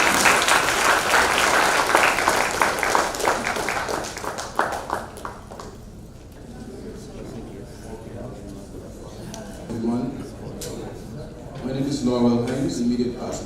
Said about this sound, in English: A round of applause for Yesu Persaud.